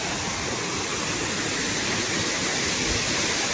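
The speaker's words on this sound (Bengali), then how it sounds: "এই যে এদিকে একটা সুন্দর ঝর্ণা পেয়েছি" A waterfall rushes steadily on the Kedarnath trek at night, a loud broadband roar that stays constant and unbroken throughout, with nothing else standing out above it.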